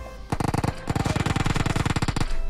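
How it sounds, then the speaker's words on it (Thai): Automatic gunfire in the mobile battle game PUBG Mobile, coming from behind the player: loud, rapid bursts of shots in quick repeated rhythm, with a brief pause between volleys. "เสียงปืนเสียงปืนด้านหลัง"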